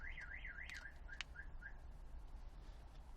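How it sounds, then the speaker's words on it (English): A HAWK HA-240 car alarm sounds its rising and falling siren for about a second, then breaks into short chirps and stops, leaving quiet background noise. "You can see now the alarm is on."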